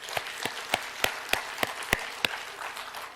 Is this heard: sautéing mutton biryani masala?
no